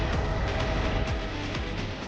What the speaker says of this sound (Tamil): அங்கே பார்த்தீங்களா ட்ரெயின் போகுது